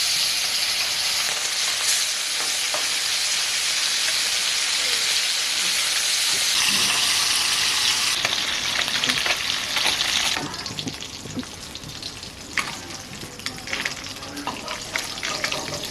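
Fish frying in hot oil in a wok for a bhola fish curry, a loud, dense sizzle that swells and then drops to a lighter crackle with scattered pops, close up and with no talking.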